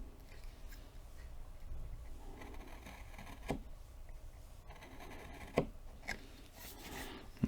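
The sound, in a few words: wood carving gouge cutting the philtrum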